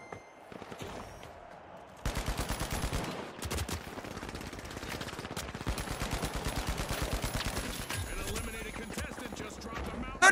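Rapid bursts of automatic gunfire from the video game The Finals, a dense, loud stream of shots running almost continuously, with a voice talking over part of it.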